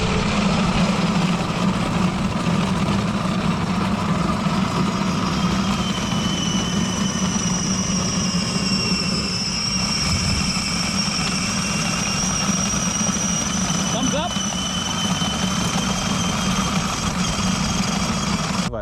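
Engine of a custom VW Kombi kids' ride-on bus running steadily on a road test drive, a constant close idling hum with a whiny tone above it, no talk.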